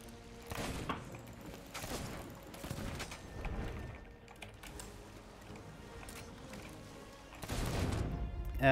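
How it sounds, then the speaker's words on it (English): Gunfire and cannon blasts from pirate ship combat in the PC game Sea of Thieves, a busy run of sharp bursts and thuds, loudest near the end. "Okay, they're shooting."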